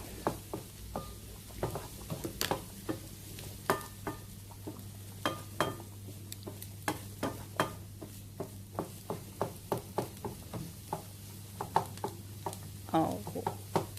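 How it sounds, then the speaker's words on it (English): Gluten-free pasta and vegetables being stirred in a pan make repeated scraping clicks and soft knocks against the metal over a steady low hum, with faint sizzling beneath, close and continuous with no talk. "More stirring, more stirring."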